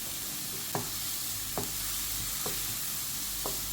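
Onions with ginger, garlic and salt cook in a pan under a soft, even hiss, with about four light, evenly spaced taps of a spoon against the pan. The sound is faint.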